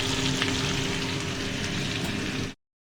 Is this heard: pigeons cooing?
no